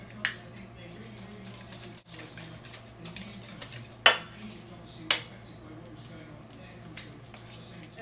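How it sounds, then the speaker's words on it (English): Eggs are cracked into crepe batter: three sharp, close cracks spaced about a second apart, over a quiet kitchen background. "And then we're going to add 3 eggs."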